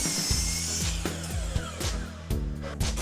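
Wood pieces for a rustic outdoor storage bench are cut with a power saw, whose motor whines and shifts in pitch close by through several short cutting bursts.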